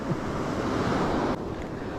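Sea waves wash onto the shore at a fishing spot, making a loud, steady rush of surf mixed with wind buffeting the microphone. The roar eases slightly near the end.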